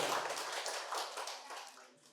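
A medical college quiz audience bursts into dense applause for a correct answer, steady and moderately loud, tapering off near the end.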